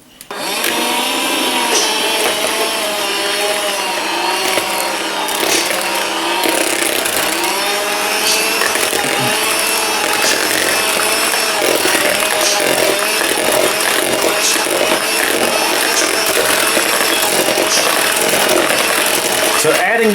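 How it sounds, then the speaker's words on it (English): An Aldi Ambiano cordless hand mixer whirs steadily as it mixes zucchini, its buzzing motor strained and continuous for the whole stretch, close and loud. "So let's go ahead and try to mix in this zucchini."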